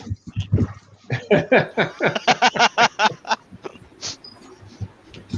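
A dog whines and whimpers in a rapid series of short, pitched cries that rise and fall, loud and close, then trail off into a few softer sounds.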